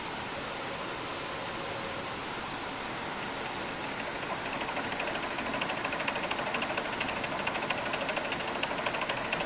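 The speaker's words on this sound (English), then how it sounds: "A little bit of the milling operation here." Milling machine cutting metal for a pry bar, a steady harsh broadband grinding roar that grows louder and rougher after a few seconds, with a fast fine chatter, close and continuous with no talk.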